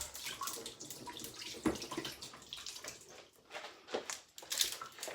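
Water pours and splashes steadily at close range onto sorrel, a soft continuous gush with small drips, fairly quiet.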